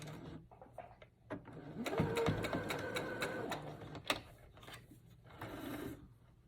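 Mechanical whirring and rapid clattering of a sewing machine stitching a fabric braided headband, steady for several seconds with brief pauses, fairly close.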